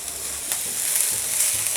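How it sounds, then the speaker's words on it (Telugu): Capsicum pieces frying in a pan give a continuous bright sizzle, close and fairly loud, with light stirring scrapes mixed in. "అలానే క్యాప్సికమ్ ముక్కలు 2 ఇందులోకి యాడ్ చేయాలి. జస్ట్ ఒక 1 to 2 minutes ఫ్రై చేసుకోవాలండి"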